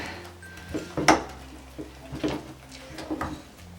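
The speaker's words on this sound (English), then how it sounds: "So just keep stirring it." A spoon scrapes and knocks around a pot of thickening vegan cheese, several distinct clanks and scrapes in an uneven rhythm, close and moderately loud with a low background hum.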